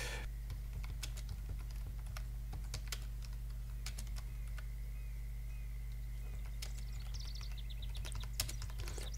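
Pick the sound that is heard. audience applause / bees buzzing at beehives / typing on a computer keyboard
typing on a computer keyboard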